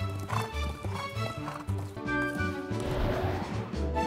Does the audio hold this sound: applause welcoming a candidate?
no